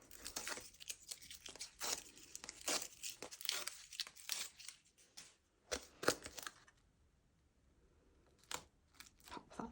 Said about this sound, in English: And we'll peel the backs off those.